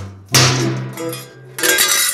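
Two sharp metallic taps from a small hammer marking a metal plate for a brazed cowbell, each ringing briefly before fading.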